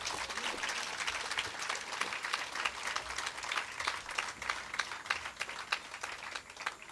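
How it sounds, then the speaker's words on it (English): Lecture audience applause fills the hall, dense steady clapping from many hands that continues evenly throughout, close and loud with no talk over it. "I will ask you to give him yet another round of applause"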